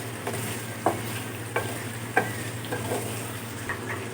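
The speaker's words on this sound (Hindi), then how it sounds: "थोड़ी देर के लिए फ्राई कर लेंगे।" Ginger garlic paste sizzles softly in a hot pan while a spoon stirs it, giving a steady low frying hiss with several distinct scraping knocks spaced about a second apart, close and without talk.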